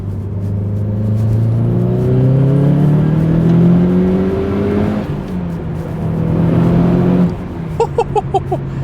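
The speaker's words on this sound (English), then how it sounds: "So I'm just going to give it a little pull in third, see what we got." A Subaru Impreza STI Type 25 pulling hard in third gear, its engine note climbing steadily in pitch, easing briefly, then rising again, loud and close with a few sharp clicks after it settles.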